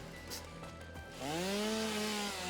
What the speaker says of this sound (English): So when you are using the chainsaw, if you go off of it, it starts over again.